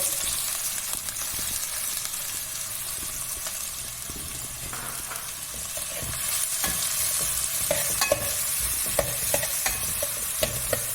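Finely chopped onion sizzles in a pan with ground masala, and stirring makes repeated scraping clatters that grow busier toward the end. The frying hiss stays steady and close, with no speech.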